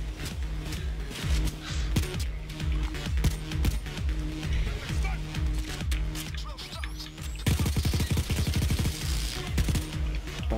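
Rapid automatic weapon fire in Payday 2, a steady stream of close, loud shots in quick rhythm that thickens into a denser burst near the end.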